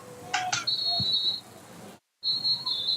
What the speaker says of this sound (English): the ball was snapped, but the whistle had been blown